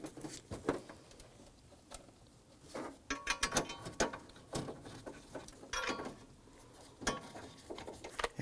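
Hardware on the battery hold-down plate of a 2003–2014 Volvo XC90 is snugged down, producing faint, scattered metallic clicks, ratchet ticks and taps at close range. No one speaks.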